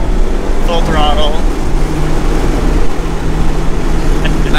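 A 2023 Mazda Miata RF with a manual gearbox drones loudly at full throttle from inside the cabin on a winding mountain road, a steady engine roar with occasional voices talking over it.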